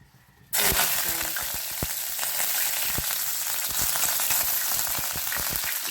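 Cumin and mustard seeds hit hot oil in a kadhai while cooking a simple French bean and potato bhaji, bursting into a loud, steady sizzle with scattered sharp crackles and pops throughout.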